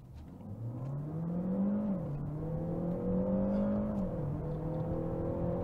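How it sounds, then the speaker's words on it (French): A car accelerating at full throttle on a straight road, its engine revving steadily upward with clear gear changes as the pitch drops and climbs again, loud and continuous with no talk. "Je vais mettre full gaz et lâcher le plus tard possible et voir un petit peu comment ça pousse."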